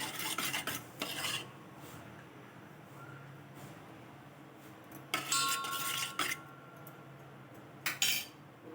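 Aloe vera pulp heating in a pan while being stirred, with bursts of spoon scraping and clinking against the pan between quieter stretches of low sizzle.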